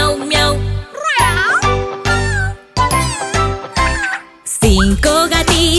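In a children's Spanish song about a mother cat and her kittens, sung melodic meows repeat in a bouncy rhythm over bright jingling music, loud and upfront.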